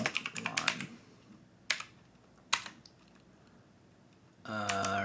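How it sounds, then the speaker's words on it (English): Keys clatter on a computer keyboard in a burst of quick taps, then a few isolated strikes spaced apart, close and fairly quiet, ending in a harsher patterned sound at the end. "He finishes typing his final line."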